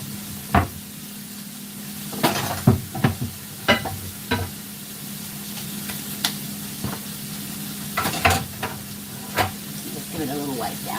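Garlic and green onions fry alongside shrimp in a pan, an ongoing sizzle broken by sharp clacks and scrapes of a utensil against the pan, with some speech in the background.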